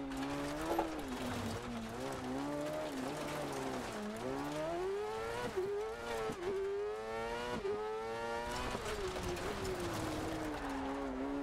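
The engine of a cross kart in Dirt Rally 2.0 revs high and whiny, rising and falling as it shifts and throttles through a gravel race. It runs steadily and close up, with no voices.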